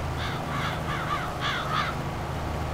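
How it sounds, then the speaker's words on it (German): Crows caw repeatedly in Farming Simulator 22, a series of harsh calls in two bursts over a constant low engine drone from farm machinery. "Ja, die blöden Krähen."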